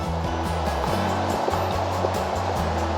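Water rushes steadily along a New England brook near an old sawmill site, a loud, continuous broadband wash that runs alone and fills the whole stretch, with no voices heard.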